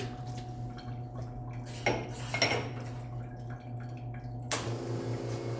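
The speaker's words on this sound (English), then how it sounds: "Just heat the cup up. More rinse." A cup rinsed at a kitchen sink, with soft clinks of dishware and light dripping water over a steady low appliance hum, plus a sharper clatter near the end.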